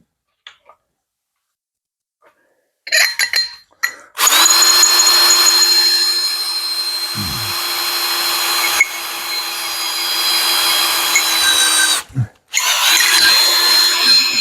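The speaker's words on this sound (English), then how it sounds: "So if you're going to drill in some hard material, we'll get a little oil on here." Power drill boring through hard sheet metal lubricated with oil, a steady high whine running about eight seconds after brief starts, then stopping and resuming, heard close with no talking.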